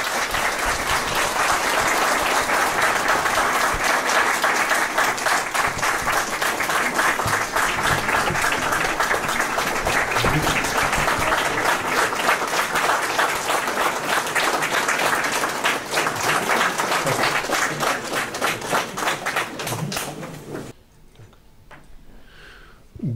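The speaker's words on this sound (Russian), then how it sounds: "Пожалуйста, бурные аплодисменты." Loud, stormy applause from an audience in a Moscow press-conference hall, dense sustained clapping filling the room for about twenty seconds before cutting off abruptly into near silence.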